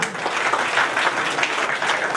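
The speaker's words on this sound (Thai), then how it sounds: "ขอเสียงปรบมือด้วยค่ะ" A crowd gives a short, steady round of applause for a Honda motorcycle dealer's representative at an event with a technical college, the clapping even and moderately loud throughout.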